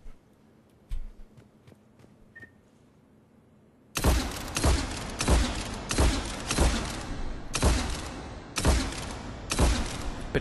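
The Scimitar shotgun in Mass Effect 3 fires at long range. About eight loud, punchy blasts come at an irregular, roughly one-second rhythm after a few seconds of near silence with faint taps.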